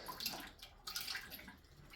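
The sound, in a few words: water draining out of a well pressure tank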